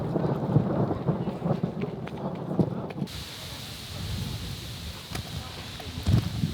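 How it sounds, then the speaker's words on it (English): Thunder rumbles through a storm over rain and gusting wind at an outdoor event, low rolling booms recurring across the span with a sharper crack late on. "The thunder is coming."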